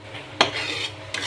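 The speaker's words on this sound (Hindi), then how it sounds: "घी में बेसन भून रही हूँ" Gram flour being roasted in ghee for sweet besan laddoos, a soft steady sizzle with two quick scraping stirs of a spoon in the pan, close up and without speech.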